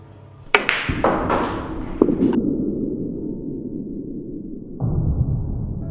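A billiard cue sharply strikes the cue ball, followed by a few quick clicks and a thud as the ball rebounds off the rail, then a low rolling rumble across the table.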